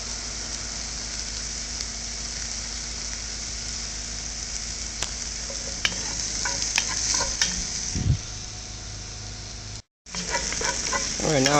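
Onions fry in a pan for pot roast chili with a steady, crackling sizzle and occasional utensil knocks while being stirred. The sound cuts out briefly near the end, then resumes.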